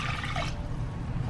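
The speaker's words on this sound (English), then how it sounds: "So I'm going to pour my cup of rice, and then I'm going to get 2 cups of water." Water poured from a cup into a pot of dry rice, a short close trickle and splash lasting about a second, quiet and with no talking.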